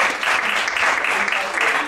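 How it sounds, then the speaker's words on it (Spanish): An audience claps steadily at a neuroscience and clinical psychology panel, the broadband applause filling the whole moment without pause. "Un aplauso para Diana."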